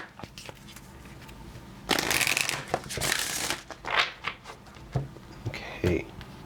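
A deck of tarot cards is shuffled up close in a couple of brisk riffles, followed by softer handling sounds and a few brief spoken words.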